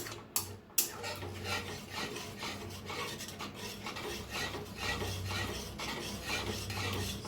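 Spice masala with yogurt being stirred and roasted in a pan over low heat, a steady scraping and rasping that continues without pause, close and moderately loud.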